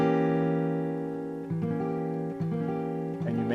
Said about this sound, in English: Let's talk about one more chord, and that is the diminished chord.